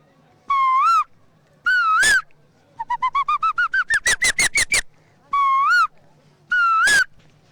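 A man mimics a koel with his voice: rising whistled calls, then a quickening series of repeated notes building in pitch and loudness, then more rising whistles, loud and close with no other sound.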